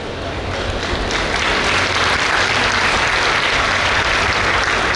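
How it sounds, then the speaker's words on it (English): A hall full of people at a nursing and physiotherapy college ceremony claps loudly and continuously, a thick wash of hands beating together without pause for the whole stretch. "You're not clapping well."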